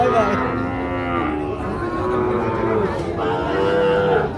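A Sahiwal bull calf at a cattle market moos in long, drawn-out, wavering lowing calls, loud and close, with a second bellow rising near the end.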